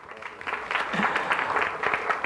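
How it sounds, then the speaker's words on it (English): Applause from a conference audience at a tech community talk, a steady wash of hand claps that swells after the first second and holds at moderate loudness. "Give yourself a round of applause."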